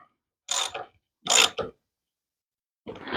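Bolts being tightened into the aluminium starter casing of a BMW R1150 motorcycle, three short ratcheting bursts with quiet gaps between them, close and fairly loud.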